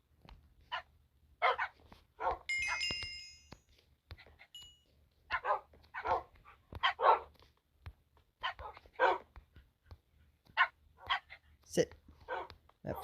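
Repeated dog barks and yips from Minecraft Bedrock Edition come in short bursts, some high and sharp, with a brief electronic chime early on; the barks sound synthetic and game-like.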